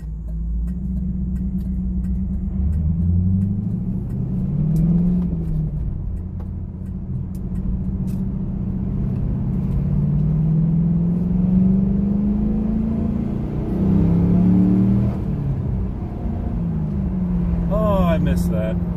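A 2002 Chevrolet Camaro SS 35th Anniversary with its LS1 V8 rumbles steadily from inside the car on a test drive. The engine note climbs and drops through several gear pulls and sits deep and continuous throughout.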